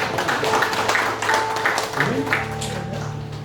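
Congregation applause fills a church service in Cilegon, a dense, steady crackle of many hands that holds for several seconds under a faint sustained musical tone.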